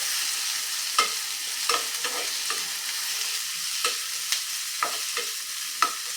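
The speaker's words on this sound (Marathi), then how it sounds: "हे थोडंसं परतून झालं की यामध्ये घालते आहे मी एक छोट्या आकाराचा टोमॅटो" Finely chopped capsicum sautés in a pan for masala pav with a soft sizzle. Sharp spatula taps and scrapes punctuate it at irregular intervals, close and fairly quiet, with no voices.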